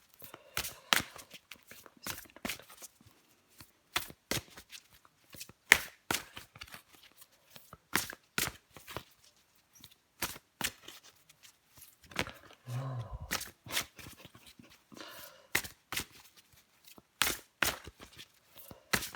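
Tarot cards are handled at a table: a string of sharp, separate riffles, slaps and taps of card stock, close by and irregular, with quiet gaps between them.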